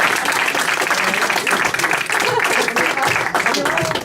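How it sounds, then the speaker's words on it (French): An audience applauding a performer in a comedy show, sustained dense clapping with crowd noise and voices mixed in, loud and steady throughout. "s'il vous plaît, on peut l'applaudir."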